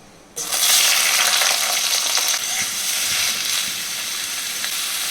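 Salted, squeezed ash gourd drops into hot oil, setting off a sudden loud burst of sizzling that settles into a steady, slightly softer fry.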